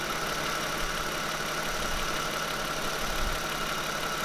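A Toyota car engine idling at a steady, even rumble with a constant hum, continuous and close throughout, with no voices.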